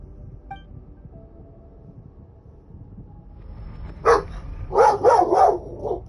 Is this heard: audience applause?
no